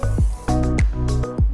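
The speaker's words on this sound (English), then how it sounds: "I'm going to just spray this down with glass cleaner." Glass cleaner sprayed onto the window of a 2017 Jeep Wrangler Rubicon JK, a few quick hissing trigger squirts in close succession, near and distinct.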